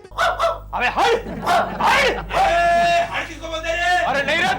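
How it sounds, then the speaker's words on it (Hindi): A dog barks in the street in a run of sharp, repeated yips and barks, loud and close, mixed with raised human voices throughout. "अभी तक सिर्फ एक कुत्ता भौंक रहा था"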